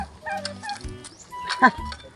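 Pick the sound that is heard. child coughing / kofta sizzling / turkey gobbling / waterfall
turkey gobbling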